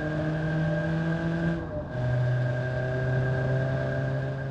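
Custom engine sound of a Fiat One car mod in the BeamNG Drive driving game: a loud, steady droning hum with a brief dip before the pitch steps up and holds, with no talking over it.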